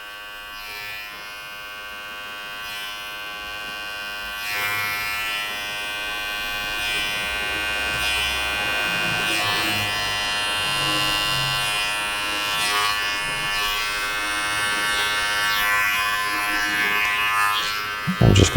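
Electric hair clippers tapering the edge of a haircut, a close, steady buzz running continuously with slight shifts as the blade moves over the hair.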